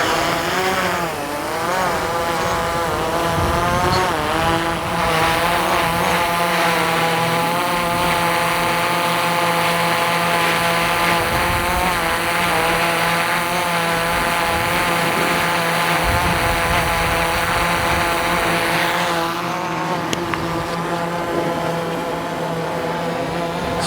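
A DJI Mavic 3 drone hovering on its stock OEM propellers, a loud, steady, close buzzing whine that holds for over twenty seconds with slight shifts in pitch as it rises and settles, with no talking.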